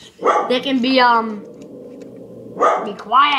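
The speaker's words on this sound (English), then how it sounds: "that's my dog." A pet dog barks twice, close and loud, with a quieter stretch between the barks, while a person talks over the first bark.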